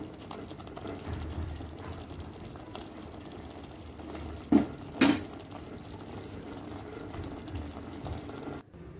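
Sugar syrup simmers with vermicelli in a pot for sweet kimami seviyan, giving a steady low bubbling hiss throughout, broken by two short clinks near the middle, with no voices.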